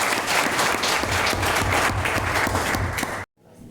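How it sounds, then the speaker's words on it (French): Loud, dense applause from a gathered audience rolls steadily for about three seconds, then cuts off abruptly, leaving a faint quiet tail. "On applaudit parce qu'il est présent"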